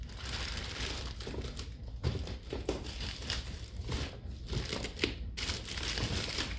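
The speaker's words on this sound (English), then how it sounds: "I slide it right in this poly bag." An item being slid into a plastic poly shipping bag for mailing, making soft, close crinkling and rustling that continues at low volume with no one talking.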